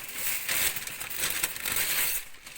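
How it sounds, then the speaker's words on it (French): Parchment paper and aluminium foil crumpled and pressed over chicken in a baking dish, close, loud bursts of crinkling and rustling that come in uneven waves, with no talking. "je m'apprête à recouvrir nos volailles avec du papier cuisson et du papier alu."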